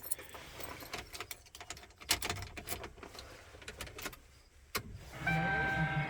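Keys jingle and turn in the ignition of a Ford Crown Victoria, with clicks and clunks in the cabin, then the car's electrical systems come on with a steady hum and faint chimes near the end.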